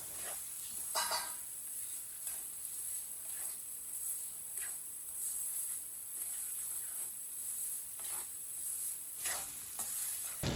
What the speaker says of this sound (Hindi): इसे ऐसे ही चम्मच चलाते हुए ब्राउन करना, चम्मच को छोड़ना नहीं है, नहीं तो सूजी हमारी जल जाएगी